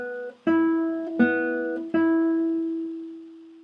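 Classical guitar plucked in a short series of notes, each struck and cut off rather than left ringing, giving three clear separate attacks up close with no talking.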